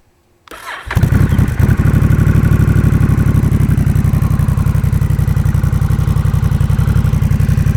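A 2021 Honda Rebel 1100 motorcycle engine with a Coffman's Shorty exhaust cranks and fires up after a moment of quiet, then settles into a loud, steady, rapidly pulsing idle close by, about 86 dB.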